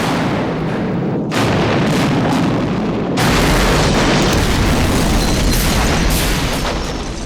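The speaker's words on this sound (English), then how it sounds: "As the explosives begin to cut through the metal structure, pressure is released," Explosive charges cutting through a metal structure during a demolition, a continuous heavy roar of blasts and rumble with sharp booming onsets, loud and sustained.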